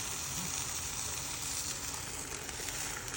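Egg yolks for an omelette frying in a pan, giving a steady, soft, even sizzle that holds without a break.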